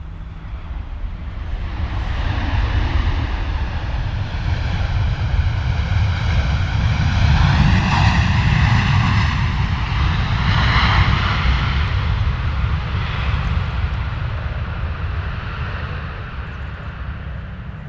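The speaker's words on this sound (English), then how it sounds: "Pratt & Whitney powered 747, so should also sound great" An Emirates Boeing 747 with Pratt & Whitney engines departs London Stansted in a long, powerful roar that swells to a peak midway and eases off. Layered whining tones ride over the deep rumble, with no talking.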